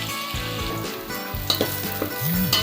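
Onion, garlic and ginger fry in a pan while being stirred, giving a loud sizzling crackle with scraping spatula strokes and a few sharp clinks against the metal.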